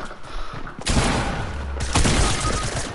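Loud video-game gunfire cuts in with two sharp bursts, the first near the one-second mark and another around two seconds, over a busy background of game noise.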